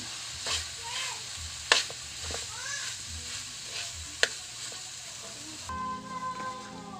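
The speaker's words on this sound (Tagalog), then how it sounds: "Lagyan natin yung ubod ng saging. Gigisa muna natin yan." Banana heart sautéed in a hot pan gives a continuous close sizzle with repeated scraping strokes of a spatula and a couple of sharp metallic clinks, and a brief tonal sound near the end.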